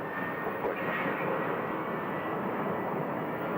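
A United airliner departing at Phoenix airport gives a steady, broad engine roar that holds at constant loudness throughout, with no speech over it.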